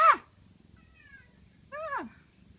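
A house cat being woken meows twice, close by in a quiet room: one short cry at the start and a longer, rising-falling meow near the end, with a faint squeak between.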